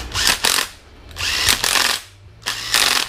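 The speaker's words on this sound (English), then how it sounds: "a little 1/4 inch impact with a 3/8 drive on it is amazing because it stops at like 26 foot-pounds of torque" A small 1/4-inch impact driver fitted with a 3/8 drive runs in three loud, close bursts, each roughly half a second of whirring hammering, tightening bolts on an engine during a cam install.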